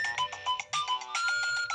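A phone ringtone for an incoming call plays a bright, repeating melodic pattern of short electronic notes, close and clear with no voices.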